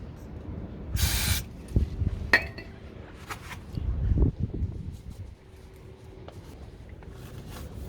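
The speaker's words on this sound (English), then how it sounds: "I like to use some brake cleaner and clean everything off." Brake cleaner is sprayed over the brake parts of a BMW M car before new pads go in: one short, close hissing burst amid clinks and rattles of metal parts and tools, with no talking.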